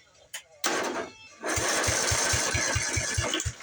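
An old red Murray lawn mower's small engine cranks over in a fast, even chugging rhythm, loud and close, after a few brief knocks and rattles.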